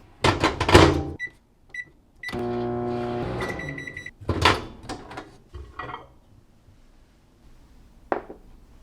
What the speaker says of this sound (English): And microwave it for 10 seconds.